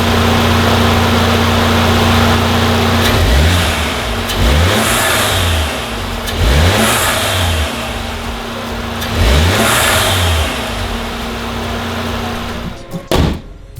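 A VW Mk7 GTI turbo engine idles steadily, then revs in four quick blips spaced a few seconds apart, loud and close, with nobody talking.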